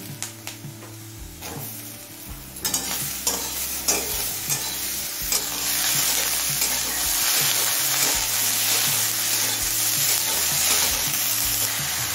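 Beans and eggplant being fried in a pan, a dense, loud sizzle that swells after the vegetables go in, with repeated scraping and clattering stirs of a spatula throughout.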